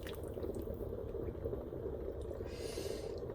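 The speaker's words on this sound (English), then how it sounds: "I'm gonna continue to boil about hour and a half." Pho broth boiling in a pot, a dense, steady low bubbling with a brief hissy rise near the end.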